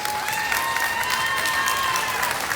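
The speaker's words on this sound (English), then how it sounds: "you give them a nice warm round of applause" Steady applause from an audience at a junior swine showmanship livestock show fills the whole moment, dense and continuous clapping with a faint tonal hum running underneath.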